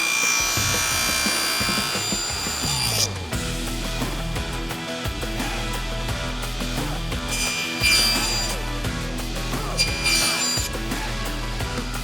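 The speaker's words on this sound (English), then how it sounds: "So I'm going to go ahead and cut those out on the table saw." A table saw hums and whines while cutting wooden tenons, with repeated passes through the workpiece and a steady rumbling motor underneath.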